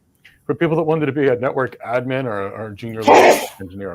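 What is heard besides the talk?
sneeze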